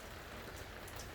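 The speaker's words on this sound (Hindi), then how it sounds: "और बारिश उतनी ही तेज़ी से हो रही है।" Heavy rain falls in a steady, dense hiss with no pauses and no voices.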